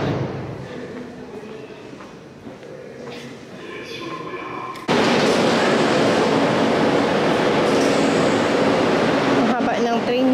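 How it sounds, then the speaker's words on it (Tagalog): A long train rolls into a station, building to a loud sustained rumble and roar close by, with faint talk and hiss before it. "Ito na yung train namin."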